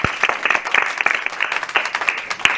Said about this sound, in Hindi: इनके नाम पर ताली।